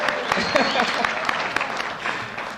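A crowd claps steadily at the Open That Bottle Night 2013 event, dense applause with scattered sharper hand claps, fairly close and sustained throughout.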